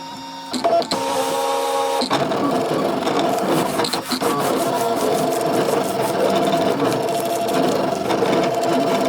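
A Brother ScanNCut DX cutting machine slices through crepe paper, its motor whirring steadily and loudly at a slow speed, with brief clicks and shifts in pitch as the carriage moves; no talk.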